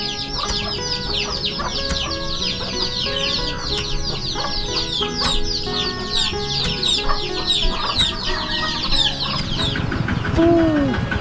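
Chickens cluck and chatter steadily up close in Phalong Kham village, Phin district, Savannakhet, Laos, with overlapping calls throughout and a louder squawk near the end.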